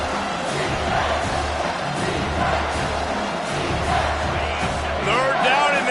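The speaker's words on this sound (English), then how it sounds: "this crowd is tearing the lid off this place" A packed football stadium crowd roars on third down, a loud dense wall of cheering and yelling that holds steady throughout and swells near the end, with shouts and whistles standing out from the mass.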